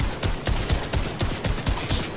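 Rapid automatic gunfire in a shooting video game, with a fast rhythmic stream of punchy shots sounding close and loud throughout.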